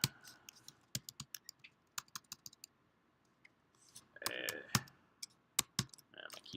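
Computer keyboard typing comes in irregular bursts of sharp clicks and key taps, close and quiet, with a pause midway and faint background murmur.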